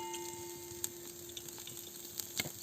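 Oil sizzles faintly in a hot pan for mutton curry, a soft steady frying hiss broken by a few light ticks and clinks.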